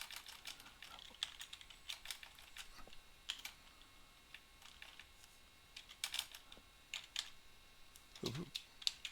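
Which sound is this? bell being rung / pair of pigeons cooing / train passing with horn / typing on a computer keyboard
typing on a computer keyboard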